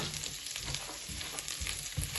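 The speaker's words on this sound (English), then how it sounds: "And you continue to fry." Onions and garlic frying in a pan, a steady close sizzle with soft crackle throughout and faint stirring scrapes.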